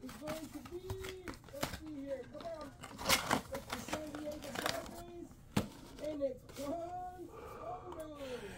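A foil pack of Topps baseball cards is ripped and crinkled open in quick tearing bursts, fairly quiet and close, with a person talking over the handling.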